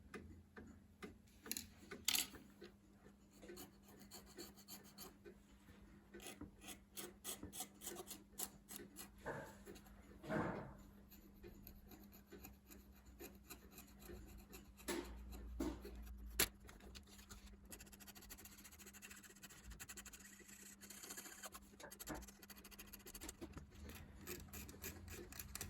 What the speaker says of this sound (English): So first thing I'm going to do is to scrape all of this black paint off